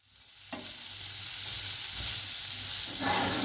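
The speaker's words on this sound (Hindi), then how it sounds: "इसको अच्छी तरह से हिलाते जाएंगे" Ingredients for Kabuli pulao are stirred and sautéed in a hot pan, a steady close sizzle with scraping strokes of the spoon rising and falling over a few seconds.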